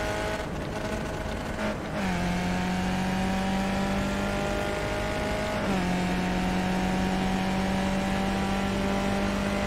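Skip Barber race car with a Hemi engine in iRacing at Mount Panorama, revving hard and held wound up, with a steady sustained drone that dips briefly at each sequential upshift before climbing again, loud and close throughout.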